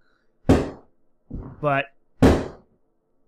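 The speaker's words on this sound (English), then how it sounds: "so for any fireworks that are going off in the background here, it is what it is" Fireworks boom twice nearby, sharp loud blasts about two seconds apart with a short spoken word between them.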